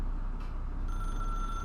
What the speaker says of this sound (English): Is that ringing? Don't tell me it's ringing.